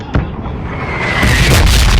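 A loud outdoor explosion: a sharp burst followed by a swelling, sustained roaring rumble that grows louder and fills the scene, heard up close.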